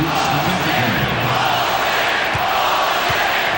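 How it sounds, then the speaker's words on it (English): A loud basketball arena crowd roars and cheers continuously at the Palace during a 1992 NBA playoff game, Knicks at Pistons, a dense sustained wall of noise throughout. "I hope your kids are all asleep with the cheer going on here at the Palace"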